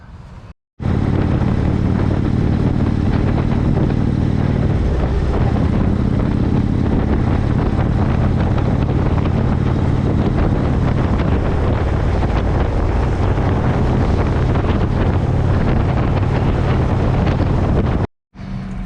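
A motorcycle towing a small trailer cruises along a highway, its engine a steady low drone buried under a loud, constant rush of wind buffeting the microphone. Near silence breaks the roar briefly at the very start and end.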